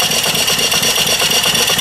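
Small live steam engine with forward and reverse running at about 200 RPM, a loud, close, steady mechanical chuffing and hiss with an even rapid rhythm throughout, no voices.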